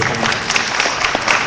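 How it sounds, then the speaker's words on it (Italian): Brief, loud applause from a group at an Italian Prosecco tasting event, dense clapping with no voices over it. "un applauso te lo facciamo"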